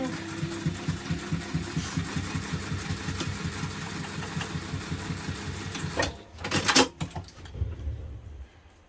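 A sewing machine top stitching along a fabric hipster bag, running in a steady, fast mechanical whirr for several seconds before stopping, followed by a few sharp clicks and handling noises up close.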